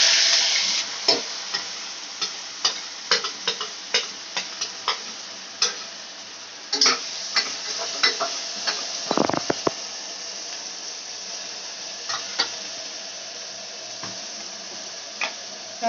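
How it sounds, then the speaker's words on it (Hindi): Finely chopped onions fry in oil for a goat intestine dish with a steady sizzle and sharp ticks and crackles, plus one louder stirring scrape in the middle. "हम तेल डाले हुए इसमें अब डालेंगे ये प्याज"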